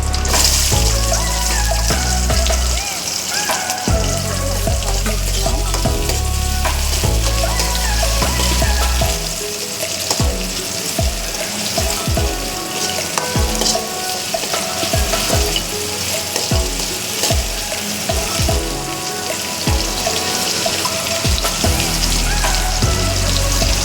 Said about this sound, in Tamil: எண்ணெய் காஞ்சதும் 2 வத்தல், சின்ன வெங்காயம் போட்டுக்கலாம்.